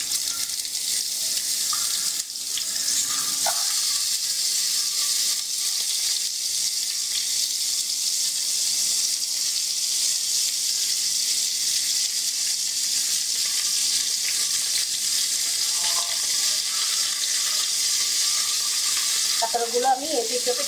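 Spiny gourd frying in two tablespoons of oil in a pan, a continuous bright sizzle that holds steady for the whole stretch, with a few faint clinks of stirring.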